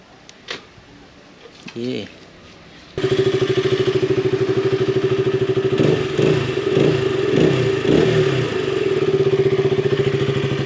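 An RC200 motorcycle engine fires up after a few clicks and settles into a loud, steady idle, with several quick throttle blips partway through; a voice speaks briefly near the start.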